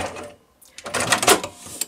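A sewing machine stitches quilt block fabric in short close bursts of whirring and clicking, with a brief pause partway through and no talking.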